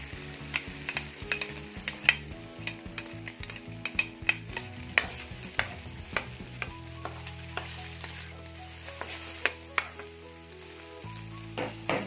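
Mashed salted egg is stirred into frying tofu, a steady sizzle broken by repeated sharp spatula clicks and scrapes against the pan, close and busy, with no talk.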